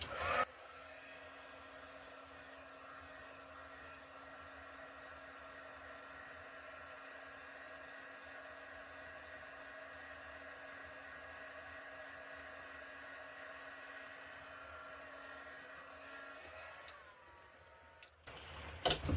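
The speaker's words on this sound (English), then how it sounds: "let's just hit that with a heat gun" A heat gun blows steadily on wet paint on a canvas during a flip cup pour, a continuous close whirring hum that holds for about seventeen seconds before cutting off near the end.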